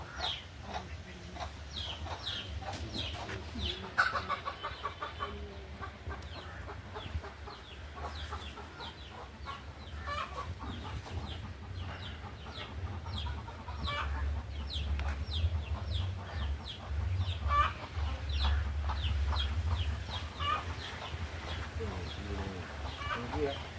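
Chickens cluck repeatedly nearby in short, scattered bursts, mixed with people talking over a low background rumble.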